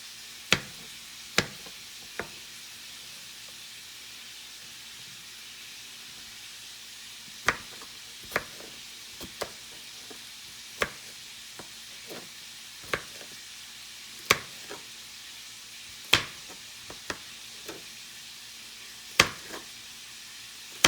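Sausage fries in a pan with a quiet background sizzle, broken by sharp, scattered pops and crackles of spitting fat at irregular intervals.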